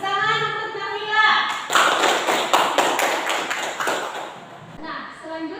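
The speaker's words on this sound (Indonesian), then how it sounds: "Tepuk tangan untuk Nabila." Pupils in a classroom lesson on air pollution break into a short burst of clapping for their classmate Nabila, lasting about two seconds, with a teacher's voice before and after.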